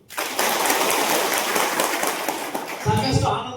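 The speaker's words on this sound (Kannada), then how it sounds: "ಅದಕ್ಕೊಂದು ಜೋರ್ ಚಪ್ಪಾಳೆ ಕೊಡಿ." An audience at a community meeting in Karnataka bursts into loud, sustained applause for a few seconds. The clapping fades near the end as a voice begins to speak.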